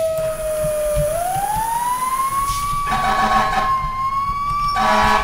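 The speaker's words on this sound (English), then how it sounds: "I like how all the truck sirens all sound slightly different." A single rising and falling fire truck siren wails steadily in the game EmergeNYC, loud and close, with a second wavering tone joining near the end over a low engine rumble.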